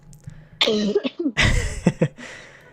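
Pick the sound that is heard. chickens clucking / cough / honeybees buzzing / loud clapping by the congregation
cough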